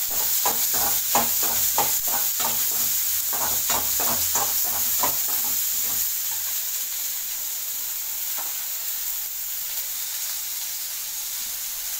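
Onion and green chili frying in a pan of oil, a steady bright sizzle throughout with rhythmic spatula stirring strokes for the first half, then the sizzle continuing alone, close and fairly loud.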